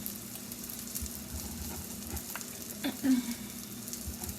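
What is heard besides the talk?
bacon sizzling as it fries in a pan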